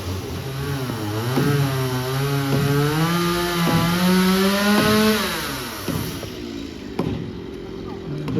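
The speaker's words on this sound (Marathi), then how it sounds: "भाऊ वूड कटिंगची पण कामं घेत आहे आणि मशीन चालू केलेली आहे" A wood cutting machine's engine runs loudly nearby, its pitch rising and falling as it revs and labors, then easing toward the end.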